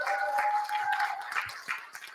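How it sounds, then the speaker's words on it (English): A crowd claps for the sponsors at a youth ecopreneur award finals event: a steady, dense wash of applause lasting a couple of seconds without letting up. "A big round of applause for the sponsors"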